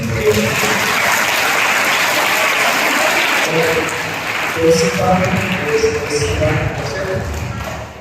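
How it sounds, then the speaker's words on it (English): A school auditorium audience applauds at a science debate competition, a dense, loud wash of clapping mixed with crowd murmur and voices throughout. "give them a big round of applause to them"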